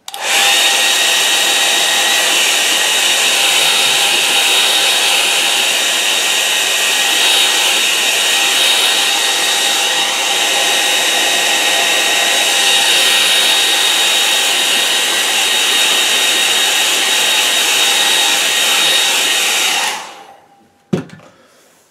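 A hair dryer blows on a wet-in-wet watercolor landscape painting, a loud, steady, close whir for about twenty seconds before switching off with a brief clunk.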